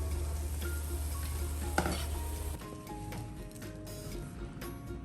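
Water lily flower pakoras frying in oil sound faintly, with a quiet sizzle, an occasional clink of utensils and a brief knock, then a thinner bubbling hiss after a low hum stops.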